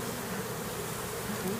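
Angry bees swarming at an opened beehive on a farm in Manoa, a dense, continuous buzzing drone heard close and fairly quiet, with no speech.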